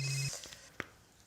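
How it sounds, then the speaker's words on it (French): A mobile phone ringtone chirps briefly at the start, then cuts off, leaving a few soft clicks and a quiet room tone. "Il y a un portable qui sonne."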